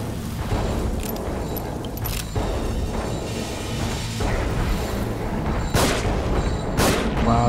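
A small handgun fires in The Evil Within, delivering several sharp, separated shots over a rumbling backdrop of game ambience and mechanical noise, moderately loud.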